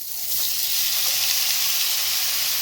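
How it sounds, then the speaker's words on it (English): Lemon-pepper-seasoned shrimp searing in a hot pot give a loud, steady hiss and crackle that fills the whole clip with no talking. "Since my pot's hot, put in my shrimp."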